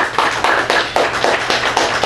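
Audience applause at a live sports and entertainment talk show, steady dense clapping throughout with periodic surges, fairly close and loud, no talking over it.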